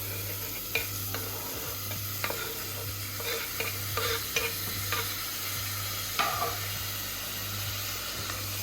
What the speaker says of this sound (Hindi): कटा हुआ टमाटर भी डाल रही हूँ।